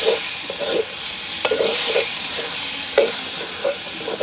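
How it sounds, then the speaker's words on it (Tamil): Tomatoes and curry leaves stirred in a hot frying pan, a spoon scraping and turning them in repeated strokes over a steady sizzle, close and clear with no talking. "இப்போ நாங்கள் வட்டி வச்சுருக்கிற தக்காளி பழமும் அதோட வந்து கருவேப்பந்திலையும் போட்டுக்கொள்ளுவோம் நல்லா பிரட்டி விடுவோம்"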